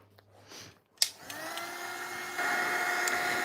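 A heat tool switches on with a click and blows a steady whirring hiss while drying glittery semi-transparent stencil paste, its pitch rising slightly midway.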